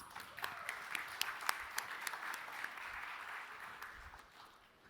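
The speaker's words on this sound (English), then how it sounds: "Let's give a round of applause." Audience applause at a startup founders pitch competition, with a few sharp nearby claps standing out over a dense round of clapping that gradually fades toward the end.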